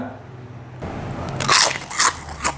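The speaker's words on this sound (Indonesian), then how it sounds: "kita cicipi seperti apa rasanya kerupuk singkong" Crisp bites into fried cassava crackers, a few sharp crunches in quick succession close to the ear after a brief quiet moment, with faint low background hum.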